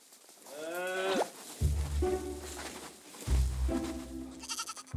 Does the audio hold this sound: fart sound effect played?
no